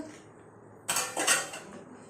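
Washed rice being stirred in a cooking pot for prawn biryani, a brief pair of metallic scraping strokes against the pot's side, close and fairly loud, between quiet stretches.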